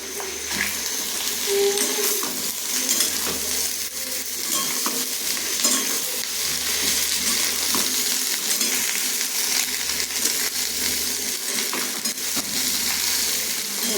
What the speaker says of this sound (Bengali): এই যে আলুগুলো বানিয়ে রেখেছিলাম সেই আলুগুলো দিয়ে দিচ্ছি। আলুগুলো ভাজবো।